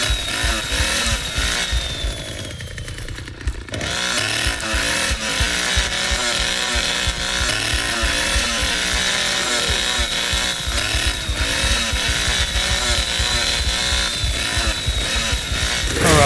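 Leatherface's chainsaw in The Texas Chain Saw Massacre video game, a loud, continuous rough engine drone with rapid rhythmic chugging, revving up and down close by, with no break across the stretch.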